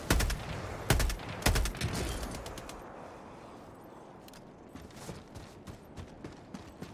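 Video game gunfire aimed at red plates during a multiplayer shooter session: loud bursts of rapid shots in the first seconds, then fainter scattered pops over a noisy, busy game backdrop.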